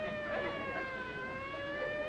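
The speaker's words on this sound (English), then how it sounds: "Them sirens! Somebody's calling the law." A steady, sustained siren wail drones on continuously at moderate volume, sounding somewhat distant, with no talking.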